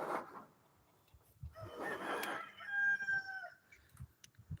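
A rooster crows once on a farm during hurricane preparations, a clear, sustained cock-a-doodle-doo rising then holding steady, with soft clucks and faint background noise before and after.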